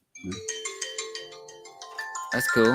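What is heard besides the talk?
mobile phone ringtone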